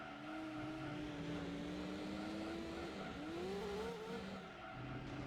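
A rival race car's engine runs right alongside in a video game, a thin, buzzy, sewing-machine-like drone with a steady pitch that dips and climbs again mid-run, heard alone at moderate level.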